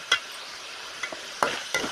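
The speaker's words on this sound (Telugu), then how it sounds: "ఇలా ఫ్రై చేస్తూ ఉండాలి." Chicken frying in a pan, stirred with a few sharp spatula taps and scrapes over a faint, steady sizzle, heard close and alone.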